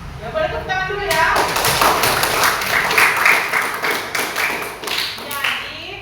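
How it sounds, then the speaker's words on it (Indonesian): A school class claps after a poetry reading, a dense burst of hand claps that swells quickly and then trails off in scattered claps, heard close with some voices underneath. "Ya, boleh tepuk tangan dulu ya."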